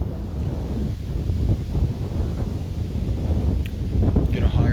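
Wind gusting steadily at a Cape Ann coastal campsite during a nor'easter, a loud continuous rush buffeting the microphone throughout, swelling toward the end.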